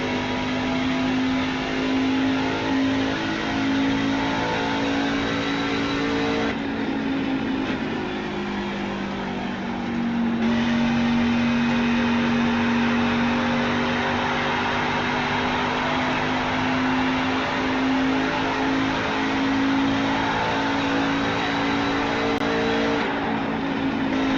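A V8 racing truck engine at Nashville roars continuously at close range, holding a loud sustained drone with shifts in pitch as it drops and climbs through gears around the track.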